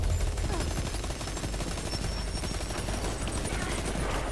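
Continuous gunfire in the Destiny shooter game, a dense unbroken stream of rapid shots with rumbling low end throughout.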